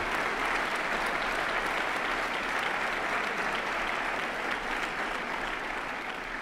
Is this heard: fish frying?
no